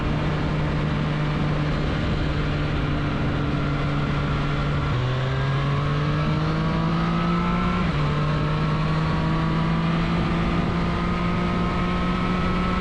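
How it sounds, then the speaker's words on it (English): A 2023 Triumph Street Triple 765 RS motorcycle engine drones steadily and loud, its pitch stepping up in stages as it is revved harder, with no talk. "listen to this engine. It's got so much to give. It is such a sweet sounding engine."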